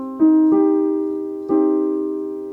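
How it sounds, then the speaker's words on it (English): A minor triad chord, a minor third stacked under a major third, rings out clearly alone, struck twice with a sustained, slowly fading tone after each attack. "which is a minor triad"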